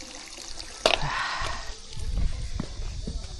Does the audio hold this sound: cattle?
no